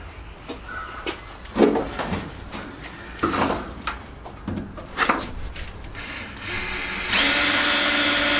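Power drill running a blunt 3.5mm bit during a Daihatsu F10 rebuild, heard as short, repeated bursts of drilling and tool handling, ending in a steadier, louder whine that continues to the end.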